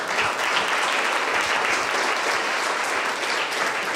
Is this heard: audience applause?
yes